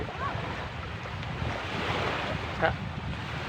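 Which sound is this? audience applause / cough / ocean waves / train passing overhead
ocean waves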